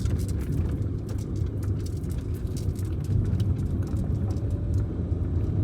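A manual car driving steadily just after a smooth, jerk-free shift while downshifting, with a continuous low engine and road rumble throughout, fairly loud and close, no talking.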